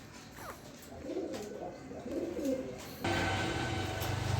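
A pair of wheeler pigeons coo close by in soft, rolling calls, with a steady background hiss that grows louder partway through.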